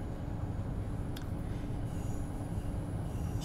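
A train rolls along the single-track Priestewitz–Großenhain main line in Train Sim World 2, running as an RB 31 service: a steady, loud low rumble with a brief high wheel squeal partway through.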